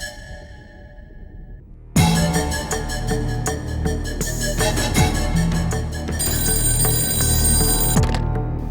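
After a brief quiet moment, a loud telephone bell starts ringing and keeps trilling continuously, with no voices present.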